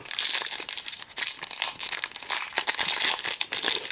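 A Pokémon card booster pack wrapper being opened, with continuous close, loud crinkling and tearing of foil plastic throughout.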